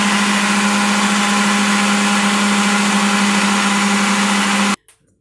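An electric hand mixer beats cake batter with egg, holding a loud, steady whirring hum close up for nearly five seconds before switching off abruptly, with a soft clatter after.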